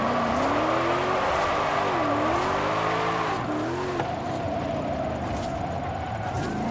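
Toyota 2019 4Runner TRD Pro on an AWD drift tune in a racing game, its engine holding a steady loud drone with pitch swells and dips as the slide is held on e-brake and brake, tire hiss underneath.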